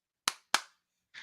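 Two sharp, close hand claps about a quarter second apart, each crisp and ringing briefly, followed after a short silence by the start of a shouted voice.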